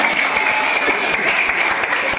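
Congregation applause at a Christian church service on family commitment, a steady, dense wash of many hands clapping together, continuous and fairly loud throughout with no speech over it.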